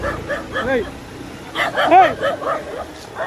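A dog barking near a lakeside, heard as several loud, close barks in quick bursts, with people shouting over and around them.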